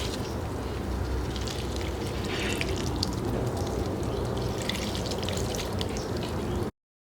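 Garden plants and spring seedlings are being watered, giving a steady spattering, pouring hiss that runs unbroken for several seconds at moderate loudness, with no voices.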